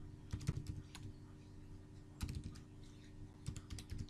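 A command being typed on a computer keyboard in short bursts of close, crisp key clicks separated by brief pauses, the last burst ending in a firmer keystroke, with no talking.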